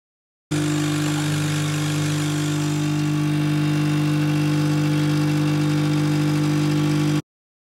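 A car engine idles steadily from inside the car, a close, even low hum with no revving and no voices.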